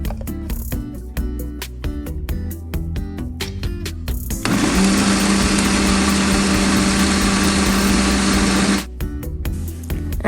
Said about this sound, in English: I'll be grinding this into a smooth paste